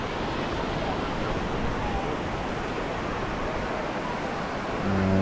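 Surf washes steadily onto Newquay Harbour Beach under a cloudy sky, a broad continuous hiss of small waves with some wind, nearby and even throughout.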